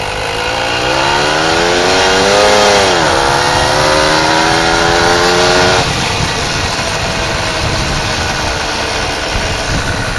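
A vehicle engine fitted with a suppressor revs loudly up and down, its pitch climbing, dipping, then rising again before settling into a rough, steady drone.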